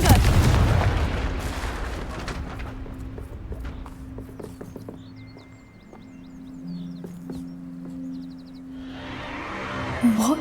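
In Hogwarts Legacy, a Confringo explosive spell lands with a heavy booming blast up front, followed by scattered thuds and crackles that fade over several seconds before a rumble returns at the end; no one speaks.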